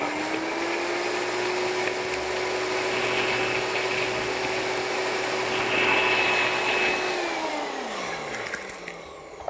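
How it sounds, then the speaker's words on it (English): A NutriBullet blender grinds oats into flour with a loud, steady motor whine that holds for about eight seconds and then winds down, alone with no talking. "give it a little bit of a shake or tilt your NutriBullet just a little bit while it's grinding"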